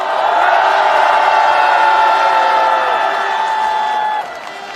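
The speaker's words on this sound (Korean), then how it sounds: "뜨거운 격려의 박수 보내주시면 좋겠습니다" Loud applause and cheering from a crowd at a Korean opposition parties' political declaration event, a steady roar that holds evenly, then drops off abruptly near the end.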